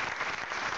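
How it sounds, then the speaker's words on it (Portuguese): A church congregation applauds together, a dense steady wash of clapping filling the whole short moment with no voices rising above it. "Vamos aplaudir o Senhor Jesus?"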